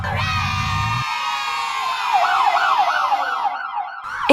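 An ambulance siren wails loud and close, a steady tone shifting into a rapid warbling yelp, with a brief low rumble at the start.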